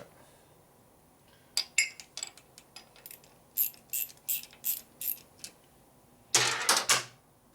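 A socket ratchet clicks on a 1958 Harley-Davidson 74ci panhead engine during a top-end rebuild, a series of short close ratcheting bursts with pauses between them, ending in a longer, louder burst.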